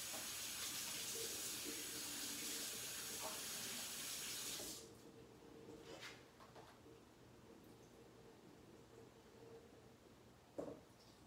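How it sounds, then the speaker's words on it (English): Water runs from a kitchen faucet in a steady hiss for several seconds while hands are washed, then cuts off, leaving quiet handling sounds and a brief clunk. "I need to wash my hands off and drain this fish"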